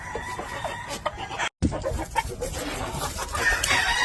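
Blueface gamefowl rooster and hen on grass, clucking and calling over steady outdoor noise, with one short crow, fairly close, and no talking.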